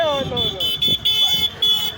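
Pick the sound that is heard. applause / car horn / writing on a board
car horn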